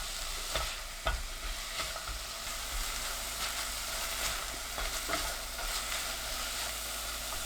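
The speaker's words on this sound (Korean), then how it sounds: "냄비에 올리브유 1큰술, 버터 20g, 양파, 파 넣고 중불로 3분 볶아주세요." Onion and leek sautéing in olive oil and butter in a pot over medium heat, a steady soft sizzle with occasional stirring clicks and scrapes, no talking.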